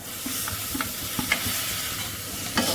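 Tomato going into a pan of spice powder fried in oil, stirred with a steady sizzle and a few scraping clicks of the spoon against the pan, close by with no talking.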